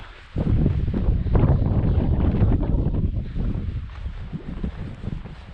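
Strong wind on a mountain backpacking trail buffets the microphone in a continuous loud roar that rises and falls in gusts, with no voices.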